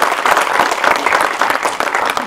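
An audience at an anniversary celebration claps in a sustained, dense burst of applause, many hands close together and loud, with a faint voice now and then.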